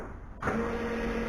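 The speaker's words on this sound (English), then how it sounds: "Fuel pump." A car's electric fuel pump primes after the ignition is switched on, a sudden close, steady whirring hum that starts partway in and holds evenly to the end.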